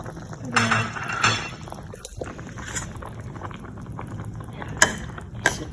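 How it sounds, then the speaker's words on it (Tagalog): Potatoes added to a simmering pot of pineapple chicken stew, with clinks of utensils against the pot, soft bubbling and splashing up close, and a voice talking over it. "lagyan na natin yung patatas para mas lumambot na"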